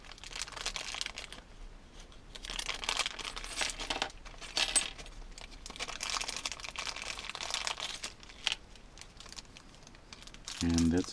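A plastic bag crinkles and rustles continuously up close as a radio-control model winch is unpacked from its small plastic box, with irregular crackling handling noises and a few clicks.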